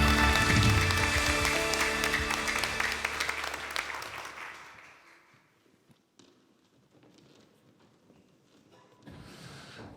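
A church congregation at a Korean Sunday service gives a loud burst of applause that swells, then tapers off after a few seconds into near quiet, with a brief soft noise near the end.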